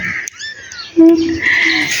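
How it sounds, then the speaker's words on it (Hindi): A one-week-old kitten with newly opened eyes gives several thin, high-pitched mews close by, including a longer rising cry near the middle, with faint background noise and no talking. "यासिर की छोटी सी बिल्ली है,"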